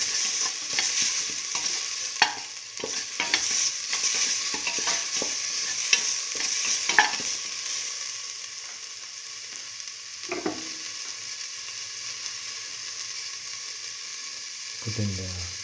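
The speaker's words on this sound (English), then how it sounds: "Salt and mix the tomato with the salt. Keep on sauteing." Tomato with salt sautéing in a pan gives a loud, continuous sizzle with frequent scraping stir strokes through the first half, then a steadier hiss with a few clunks near the end.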